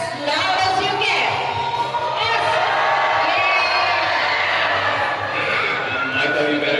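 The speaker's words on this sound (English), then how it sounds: "Can you guys cheer for Oscar as loud as you can?" An audience of children and adults cheers loudly for Oscar at Dubai Safari Park, a continuous mass of shouts, whoops and calls held at full volume from start to finish.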